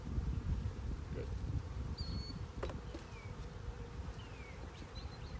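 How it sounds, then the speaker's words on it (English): Steady, close buzzing of many honey bees, a dense continuous drone with a few higher-pitched individual bees zipping past. "I don't really want the bees out of this box because they're on the honey"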